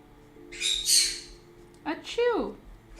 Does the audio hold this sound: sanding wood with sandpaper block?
no